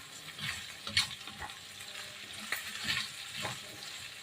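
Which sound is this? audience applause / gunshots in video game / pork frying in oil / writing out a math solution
pork frying in oil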